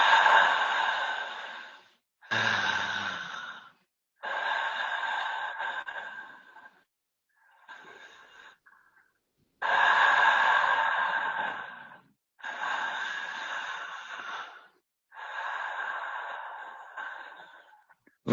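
Slow, deliberate breaths drawn in and let out through the mouth, a guided breathing exercise; about seven long airy breaths with pauses between, close and fairly loud, no talking.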